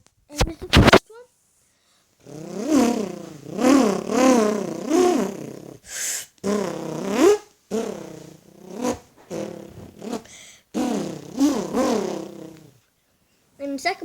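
A human voice imitates a car engine revving, producing rising and falling buzzy, vroom-like bursts in several repeated runs with short pauses between them, close and fairly loud.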